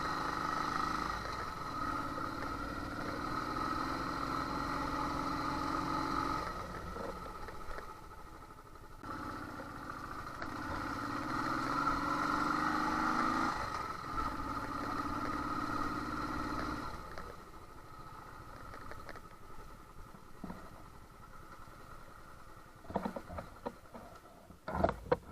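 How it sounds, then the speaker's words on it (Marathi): A Royal Enfield Thunderbird 350X engine hums while riding, its pitch stepping up and dropping through gear changes, then fading to quieter road noise with a few knocks near the end. "पण आपण बाईक घेऊन निघालाय."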